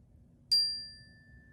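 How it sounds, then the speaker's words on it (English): A chime struck once to open a sacred space in Sunday School, a bright metallic ring with a clear attack that rings on and slowly decays into quiet room tone. "I love the sound of our chime."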